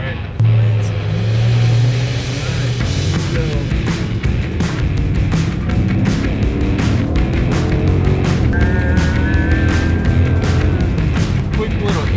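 A Chrysler 300 engine accelerating hard while racing an orange Mustang, a loud, close, rising engine roar with heavy rumble and wind noise throughout, under someone talking.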